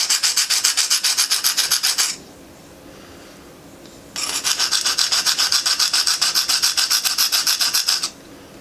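A knife is sharpened on KME diamond stones in two bursts of fast, rhythmic rasping strokes, loud and close, with a short quiet pause between them.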